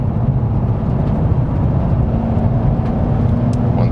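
A BMW M5 drives hard on a racing circuit, its engine a steady, loud, dense roar heard from inside the car without a break, along with road and wind noise.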